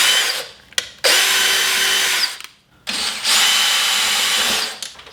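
A power drill bores a hole for a GR86 duckbill spoiler on a 2022 Subaru BRZ, two loud sustained bursts of whining drilling separated by a short pause, close to the microphone.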